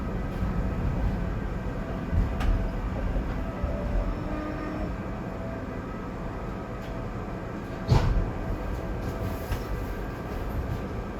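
A SEPTA SL5 passenger train runs on snowy rails with a steady, broad rumble and wheel noise, marked by a brief sharp clank partway through, with no voices.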